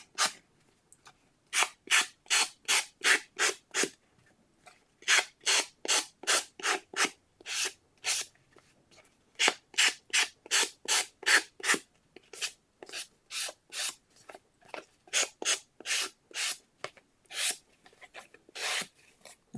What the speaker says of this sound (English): now I'm going to take a sanding block, which is also a nail buffing file thingy. Nail buffer, right? And I'm just going to sand the edges.